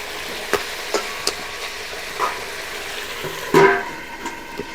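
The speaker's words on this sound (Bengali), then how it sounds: "আমি এটাতে হালকা জল দিয়ে একটু ঢাকা দিয়ে দিই যাতে একটু ভালো করে সেদ্ধ হয়" Water goes into a pot of chicken and potato curry on a rural stove in a short splashing burst, surrounded by scattered spoon and pot clinks.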